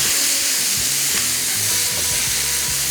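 Chicken fries in olive pomace oil while being stirred, a loud dense sizzle filling the whole clip with soft scraping stirs underneath and no one speaking.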